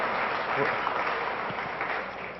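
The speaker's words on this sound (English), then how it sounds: "please give them a round of applause" A conference crowd applauds after a product demo, a dense, steady wash of clapping that fades slightly toward the end, with a voice briefly audible underneath.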